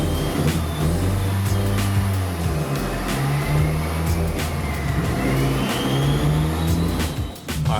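Car engine running on a mainline dyno during live volumetric efficiency tuning, a steady loud hum with harmonics rising and falling as revs gently change, alone without talk.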